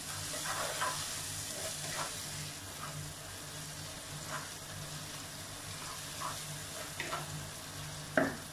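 Sliced big onions with a little salt sizzle in a pan for a Kerala sardine curry, a steady low frying hiss broken by occasional stirring scrapes and a sharp clank near the end, with no talk.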